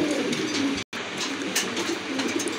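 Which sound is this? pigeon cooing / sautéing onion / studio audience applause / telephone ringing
pigeon cooing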